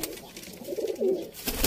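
Kali-wale pigeons cooing softly, a few low throaty coos rising and falling over about a second and a half against faint background noise.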